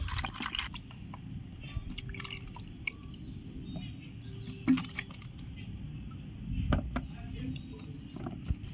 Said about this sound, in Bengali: আমগুলো আমি ভালো করে ধুয়ে নিচ্ছি জল দিয়ে